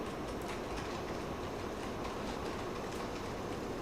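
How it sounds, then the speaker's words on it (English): An On30 scale model train runs on a home layout. Its wheels give a steady, close rolling clatter that stays even throughout, with no squealing and no voices. "Boy, this train is so quiet now without the squeaking."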